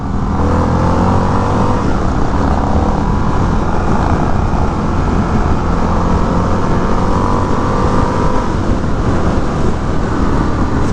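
An Indian FTR 1200 motorcycle accelerates in sixth gear on a chilly day, a loud, continuous engine drone blended with heavy wind rush that holds steady throughout, with no talking.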